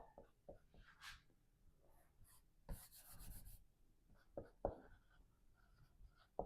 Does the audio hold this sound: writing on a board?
yes